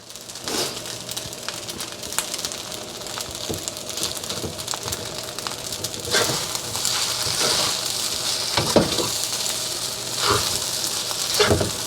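Eggs sizzle in a hot pan for salted fish fried rice, a continuous close crackle broken by sharp pops and occasional clinks and scrapes of stirring.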